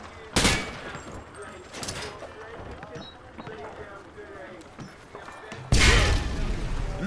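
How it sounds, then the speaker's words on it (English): Grenades thrown at targets on a training range in Call of Duty Modern Warfare 2, with a few loud blasts and bursts standing out over softer background rumble. "Private, throw a grenade and take out those targets."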